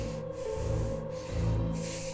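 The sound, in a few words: imitated breathing sound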